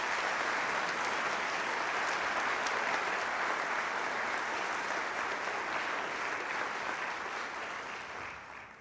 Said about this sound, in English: So can we give these folks a round of applause?